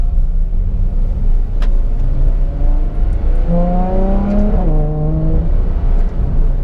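A Ferrari F12 TDF V12 engine rumbles steadily, then climbs smoothly in pitch as it accelerates, with a faint whine riding above the low growl.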